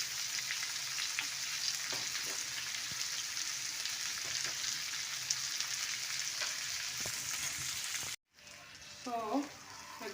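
Omena, the small silver cyprinid fish also called dagaa, sizzles steadily in a pan for about eight seconds, a close, even crackle that breaks off into brief silence before a few fainter sounds return.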